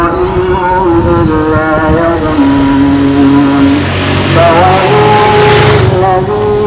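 Vehicles drive along an unfinished road under heavy construction in Bijilo, The Gambia, with loud close engine hum and shifting tonal whine, revving and changing pitch as they pass, continuous throughout.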